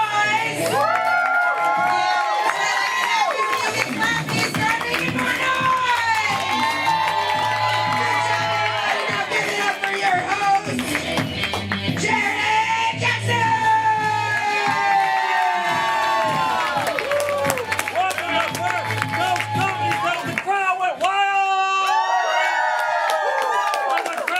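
A large crowd cheers, whoops and shouts loudly and continuously at a Friday night show, with high excited voices and scattered clapping layered over low rumbling noise.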